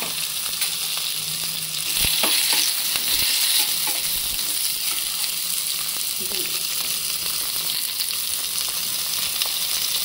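Chopped tinda sizzles in a hot pan with cumin, a steady, close frying hiss that runs throughout, with a few sharp stirring knocks near the start.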